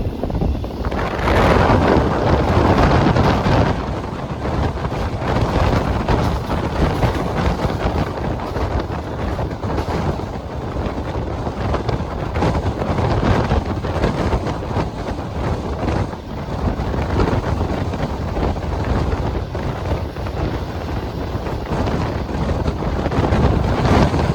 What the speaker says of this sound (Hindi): हवा भी ज़बरदस्त चल रही है।